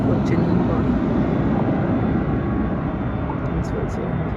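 A Jet2 Boeing 737-300 jet airliner departs from Leeds-Bradford Airport for Geneva with a steady, loud engine roar that fills the whole stretch, and a voice speaks over it.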